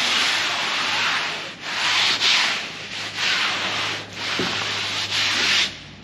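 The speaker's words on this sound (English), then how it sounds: "Give it a light sand." Light sanding by hand across the top wing of a Sopwith Camel model, loud close rubbing strokes in a steady back-and-forth rhythm with short pauses between passes.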